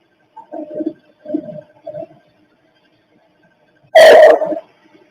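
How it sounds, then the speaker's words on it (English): Three soft, short vocal bursts, then a single loud, harsh cough-like burst close to the microphone, followed by silence. "that was that coughing sound."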